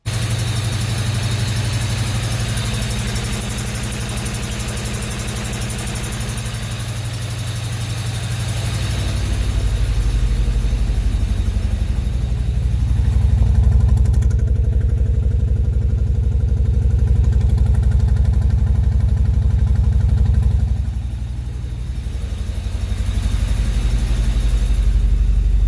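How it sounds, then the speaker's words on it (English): Car engine with a burnt-out valve idling for a long stretch, a loud uneven low rumble that swells partway through, then settles back, with no talking. "we'll start the car so we can hear what's going on with the engine."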